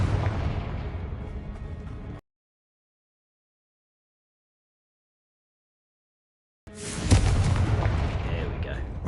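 Confringo fire spell explosions in the video game Hogwarts Legacy, loud booming blasts with a dense crackling burst at the start and another after a long gap of silence.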